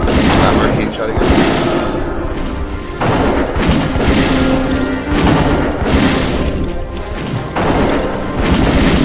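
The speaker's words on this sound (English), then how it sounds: "Spam arcane shot again." Repeated booming, gunfire-like bursts from a hunter's Arcane Shot attacks in the video game World of Warcraft Cataclysm, loud and continuous with brief dips between volleys, layered over game music and effects.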